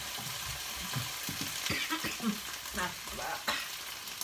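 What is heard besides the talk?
stir-frying minced pork with oyster sauce and seasoning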